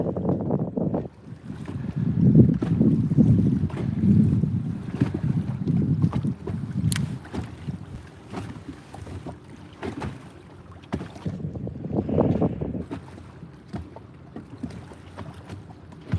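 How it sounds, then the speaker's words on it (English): Gusty wind buffets a microphone outdoors at Lake Lanier, Georgia, a loud low rumble surging and easing in waves with a few faint clicks, no voices. "Can you guys hear the wind? Is that wind picking up on your end?"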